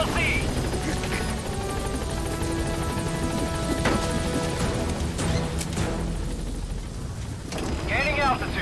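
The B-Quad helicopter arriving at a landing zone in Metal Gear Solid V, a continuous rotor-and-turbine drone under radio chatter, with brief clanks and a couple of sharp impacts near the middle.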